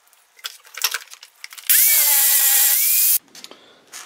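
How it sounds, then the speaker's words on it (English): An angle grinder fitted with a flap wheel cleans up welds on a homemade steel seal puller for a slide hammer, giving one loud, steady whining grind of about a second and a half between quieter handling clatter. "I'm going to go and clean it up with a flap wheel on an angle grinder"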